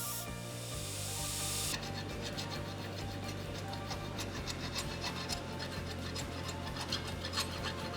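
Steel surfaces of a Viking spear core and socket scrubbed free of forge scale before welding, a continuous gritty rasping and scratching with a mechanical clatter running steadily throughout.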